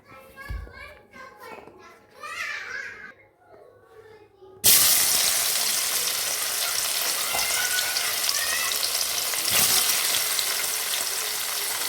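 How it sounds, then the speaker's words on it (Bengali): Paneer frying in a pan, loud steady sizzling that starts abruptly and continues strongly, with a child's chatter and household voices heard before it begins. "তোর জন্য পনিরটা রান্না করছি"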